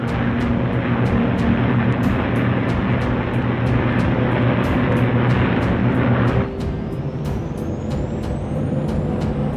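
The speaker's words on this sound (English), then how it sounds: "The Mustangs climb in formation to take positions above the boxes of B-29s." Mustang fighter aircraft climbing in formation to take position above boxes of B-29 bombers, a steady loud engine drone with broadband roar that drops slightly in level partway through, no talk.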